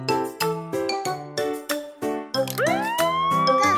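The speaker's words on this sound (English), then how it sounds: "All police cars have sirens and lights." A cartoon police car siren glides upward in a rising wail, heard over bouncy children's song music with chiming notes.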